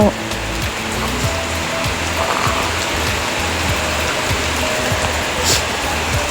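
Steady rain pours down continuously, a dense hiss of falling water with some low clattering underneath, loud and unbroken throughout.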